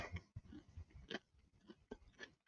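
Blue Diamond cheddar cheese almond nut thins crunching in the mouth, a few quiet brittle snaps between softer chewing sounds, close and faint, with no talking.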